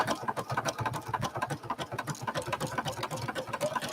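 A sewing machine runs a wide zigzag stitch during a live undersea landscape quilting session, its needle chattering in a fast, steady mechanical rhythm close by, with no talking.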